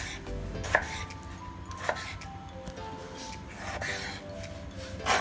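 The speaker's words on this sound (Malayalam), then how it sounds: "തക്കാളി നമുക്ക് സ്ലൈസ് ആക്കണം." A knife slicing tomatoes on a board for chicken chatti biriyani gives about four sharp, separate cuts spaced over several seconds, heard fairly close over a low, steady kitchen hum.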